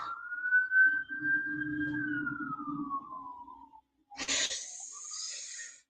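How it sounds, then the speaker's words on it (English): A siren passes outside, one long wailing tone sliding slowly downward before a harsher burst of sound follows, heard at a moderate distance through the room. "Oh dear, there's a siren."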